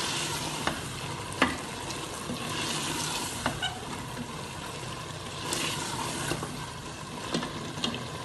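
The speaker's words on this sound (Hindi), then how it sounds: "इसको थोड़ा सा हम 1 मिनट के लिए हम इसको फ्राई करेंगे।" Spices with dried fenugreek frying in a pan for rajma, a continuous sizzle with occasional clinks and scrapes of a spoon stirring, close by.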